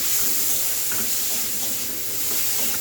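Onion and spices being fried and stirred in a pan for khichuri, giving a steady, close sizzle and hiss with soft stirring scrapes throughout and no talking.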